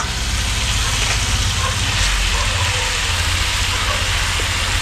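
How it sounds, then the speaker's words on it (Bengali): Leafy greens tossed into a pan of browned pumpkin and potato fry with a steady, loud, close-up sizzle that holds evenly throughout, no voices over it. "এটা আমার কষানো হয়ে গেছে কুমড়ো আর আলুটা, এবারে দিয়ে দেবো"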